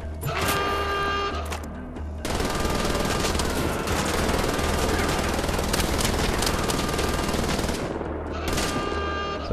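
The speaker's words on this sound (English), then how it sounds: "So being bombarded by Nazis then." Heavy sustained gunfire from Nazi enemies in Wolfenstein The Old Blood, rapid automatic bursts with explosive impacts filling most of the stretch, a brief lull near the start and end where quieter rattling continues.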